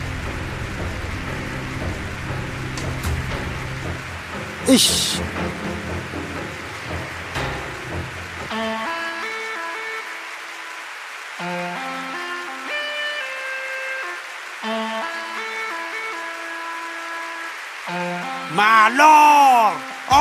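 Rain falls as a steady, wide hiss through the first half. It then fades under music and voices, and people talk briefly.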